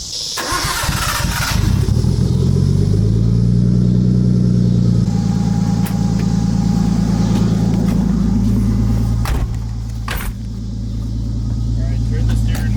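A Nissan R32 Skyline's engine starts and idles loudly with a steady low drone, a brief rev near the start, while people talk nearby during a test drive check for tire rubbing.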